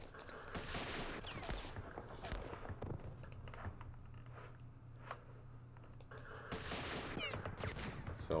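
Gunfire in the Vietnam war strategy game Campaign Series Vietnam, bursts of rapid crackling shots in two clusters with a quieter humming stretch between, fairly faint overall.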